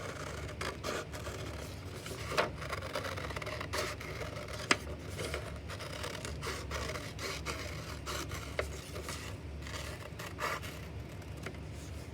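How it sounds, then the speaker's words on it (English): Scissors cutting paper while assembling a paper craft arctic hare: steady close snipping and scraping with sharp ticks, continuous and fairly quiet, no voices. "Are your scissors staying straight while you cut?"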